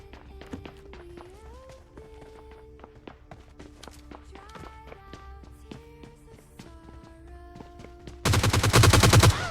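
A burst of loud automatic gunfire from the shooter game PUBG Lite breaks out near the end, following a stretch of footsteps, game sounds and quiet voice chat.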